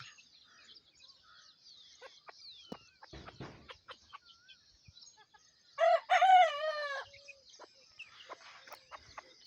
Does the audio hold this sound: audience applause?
no